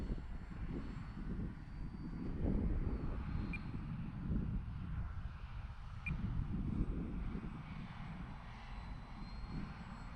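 E-flite Valiant RC airplane flying in gusty wind, its steady motor drone continuous and moderately distant, mixed with rumbling wind buffeting on the microphone throughout.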